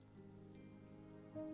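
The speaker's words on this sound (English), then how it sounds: "Oh, they even started animating the rain." Soft, steady patter of animated rain in a video game, pouring continuously at low volume, with a brief louder swell near the end.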